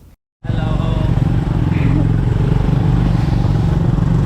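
A motorcycle engine drones loudly and steadily from close by after a brief silence, with road rumble and a faint voice in the mix.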